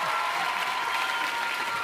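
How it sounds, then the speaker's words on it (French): A TV show studio audience applauds a stage introduction, a thick steady roar of clapping from a large crowd, loud and unbroken for the whole moment. "Elie Chouraki, Maxime Le Forestier, je vous demande de les applaudir"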